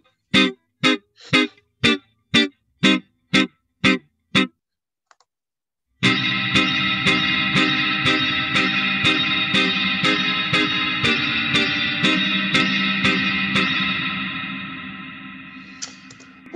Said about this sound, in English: Duceschi, who's also part of Physical Audio, put together a really great spring reverb plugin.